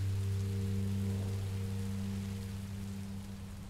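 Steady rain falling in the video game Minecraft Story Mode, a continuous soft hiss over a low constant hum, fading slightly toward the end with no voices.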